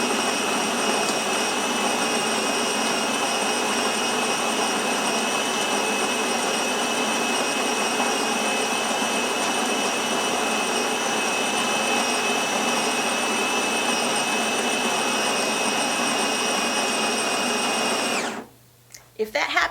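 A Gaggia Titanium espresso machine brewing an espresso gives off a loud, steady mechanical whine and hum up close, droning unbroken for about eighteen seconds before cutting off abruptly.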